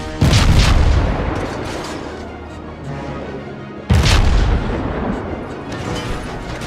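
Two heavy booming salvos from destroyer USS Wickes' ship guns in World of Warships, each a loud sudden blast followed by a long rumbling decay.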